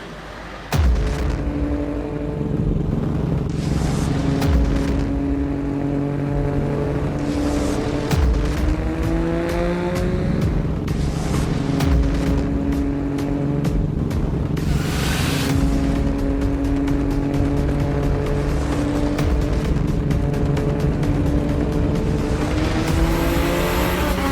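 A Toyota Supra with a 2JZ-GTE VVTi engine on a 40% ethanol tune at 1.25 bar boost roars on a dyno, revving up repeatedly in loud, rising pulls with sharp shifts and bursts of wheel spin.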